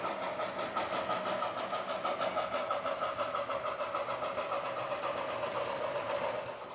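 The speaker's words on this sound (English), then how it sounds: "I put that steam engine is battery operated with sound, the only sound on the railroad at this time" A battery-operated HO scale model steam locomotive with a built-in sound unit runs on a Western Pacific layout, giving off a steady, continuous rhythmic chuffing with a constant hiss, at an even level throughout.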